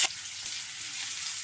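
Finely chopped onion hitting hot oil already tempered with cumin, mustard seeds, curry leaves and chilies, giving a steady, close hiss of frying with no voices.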